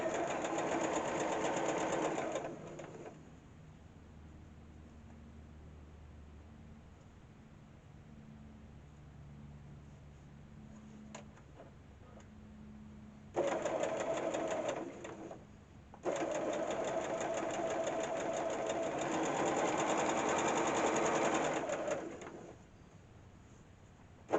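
A sewing machine stitches a nine patch quilt block in two bursts of steady, rapid whirring, separated by a quiet pause with a soft dove cooing in the background.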